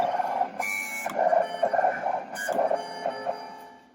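A vinyl cutter slices through material, its motor whining steadily with rhythmic pulsing and brief higher-pitched sweeps as the blade carriage moves, close and continuous with no talk.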